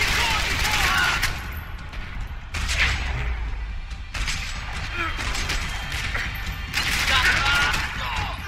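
Shots and mechanical clatter from a pistol fight in Max Payne 3, coming in several loud bursts separated by quieter gaps, with a voice speaking at moments.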